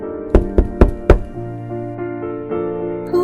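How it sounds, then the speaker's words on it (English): Four firm knocks on the wooden door of a flower-covered cottage, evenly spaced and close, followed by a soft tonal musical background. "knocked at the door of the cottage"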